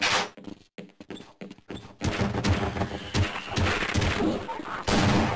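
Enemy gunfire in the video game Half-Life, loud bursts of rapid shots crackling through the whole stretch, with a choppy start of separate sharp reports before a dense, continuous fusillade takes over.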